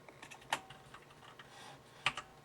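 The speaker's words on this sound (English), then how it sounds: "So I will type in" A computer keyboard tapped in a quiet, sparse run of keystrokes, with a couple of sharper clicks standing out, close and faint and without talking.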